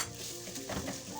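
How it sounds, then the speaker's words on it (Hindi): Spoon stirring boiled, mashed potato into sizzling fried spices in a pan while making samosa filling: a continuous close, dense frying hiss with soft scraping and mixing sounds, and no talking. "तो इसको इस तरह से मसाले में चम्मच की मदद से आप मिक्स करें।"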